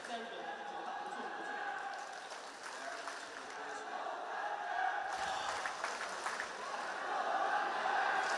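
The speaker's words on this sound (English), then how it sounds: "they got the Chinese crowd on their side" A large Chinese crowd at an Overwatch esports match roars and chants continuously, swelling louder partway through, with a caster's voice faintly underneath.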